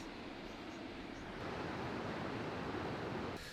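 Ocean surf breaking along the shore on a coastal surfing trip, a steady wash of broadband noise that swells slightly louder midway, heard from some distance with no speech.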